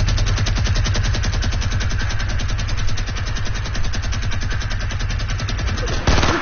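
A legendary minigun in Fortnite 50 vs 50 fires in one loud, unbroken burst of rapid rattling shots lasting several seconds, with a brief pause and restart at the very end.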